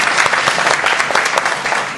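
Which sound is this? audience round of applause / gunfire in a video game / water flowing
audience round of applause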